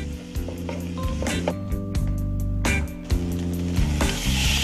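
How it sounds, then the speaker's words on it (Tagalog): Garlic and onion sauté with shrimp paste (bagoong) as the base for bulalo, a steady close sizzle running the whole time beneath tonal background music, with a few clinks of stirring. "Unang iginasa ang bawang at sibuyas kasabay ang bagoong."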